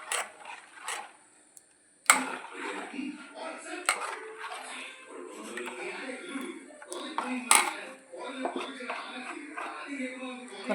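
Wheat flour for kuthappam dough being stirred with freshly boiled hot water in a bowl, giving irregular close scraping and knocking from the utensil with occasional sharp clinks, under a person talking.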